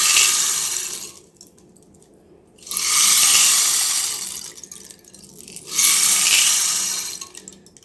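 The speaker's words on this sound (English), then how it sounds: "And the rain stick makes a sound like this." A decorated Australian rain stick is tipped back and forth, giving three long, bright cascades of rattling grains that rise and fall, with short quiet gaps between tilts, close and alone.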